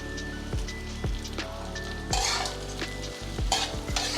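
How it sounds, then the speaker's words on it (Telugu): Spring onions frying and being stirred in a pan for garlic rice, a steady close sizzle with repeated spoon knocks and scrapes, a brighter burst of crackle midway. "లాస్ట్లో ఉల్లికాడలు వేస్తున్నాను అమ్మా. ఇవి మరీ ఎక్కువగా వేగకూడదు"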